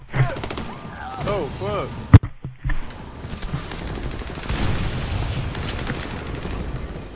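Gunfire in Army of Two: The Devil's Cartel, with one sharp close shot standing out among scattered distant bursts and a steady wash of combat noise. A man swears briefly, and other voices talk over the fighting.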